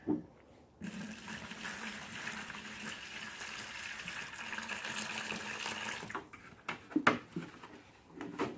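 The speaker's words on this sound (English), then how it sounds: "First of all, I'm going to put some water in here." Water gushes steadily into a bucket for several seconds, a full rushing stream that stops, followed by a few clunks and splashes, before mixing aircrete.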